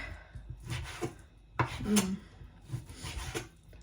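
A knife chops food on a cutting board in a home kitchen, giving a series of irregular thuds and scraping cuts, moderately close, with no talking.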